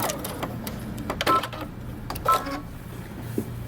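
A sewing machine backstitches a seam on a skirt, right sides facing, along the pattern's fold line. A steady low motor hum runs throughout, with a couple of louder mechanical bursts.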